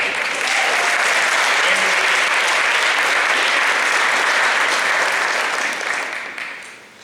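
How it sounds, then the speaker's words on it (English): Sustained applause from the audience at a high school football banquet, loud and steady for about six seconds before tapering off as the clapping dies down. "Give them both an applause."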